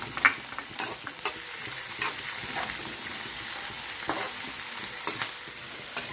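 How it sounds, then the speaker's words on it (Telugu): Onions and green chillies fry in a pan with a steady close sizzle and crackle, broken by occasional stirring scrapes throughout. "తర్వాత ఉల్లిపాయలు వేసుకున్నామండి. తర్వాత పచ్చిమిరపకాయలు కూడా వేసేసుకున్నాం."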